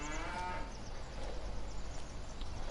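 A cow in Farming Simulator 19 lets out a single drawn-out moo near a barn, close and fairly loud, followed by soft ambient barn noise and faint clicks.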